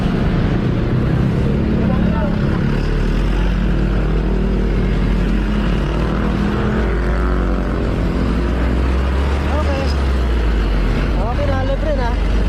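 Slow road traffic in Olivares, Parañaque, hums as a constant low engine rumble around the listener, with several short rising whines and a person talking over it.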